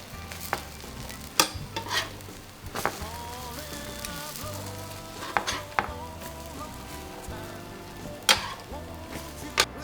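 Cajun lost bread frying in a pan gives a steady close sizzle, broken by several sharp clinks and scrapes of a utensil against the pan.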